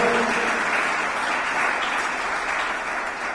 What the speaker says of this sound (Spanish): se le va a aplaudir al Señor, apláudale fuerte